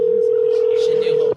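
Steady ringback tone on a prank phone call, one continuous unbroken hum lasting over a second and cutting off at the end, loud and close with no one talking over it.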